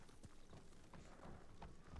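Hooves of a ridden horse clip-clop faintly at a quick, steady pace in the Ghost of Tsushima video game, soft and low in level with no talking.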